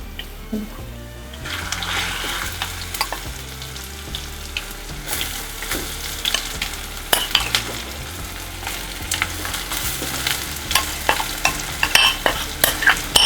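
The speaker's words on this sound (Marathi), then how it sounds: "आता आपण हा किस याच्यामध्ये किसलेला घालूया" Grated raw banana goes into a hot pan on low heat and is stirred, giving a soft sizzle under repeated scraping and clacking strokes of a spatula that grow sharper and more frequent toward the end, close and without talk.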